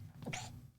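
A single short, faint sneeze cuts through a quiet background during a talk about desktop security.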